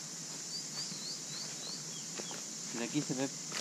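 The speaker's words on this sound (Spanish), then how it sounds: "Escuchas nada más el sonido de las aves." Birds near El Chorro waterfall give a series of faint, thin, high whistling chirps over a steady outdoor hiss, with a voice speaking briefly near the end.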